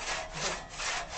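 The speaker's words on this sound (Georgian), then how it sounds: "მოდი ახლა გავხერხო და." A hand saw cutting through wood, heard up close as loud rasping back-and-forth strokes in an even rhythm, about two strokes in just over a second, with no voices.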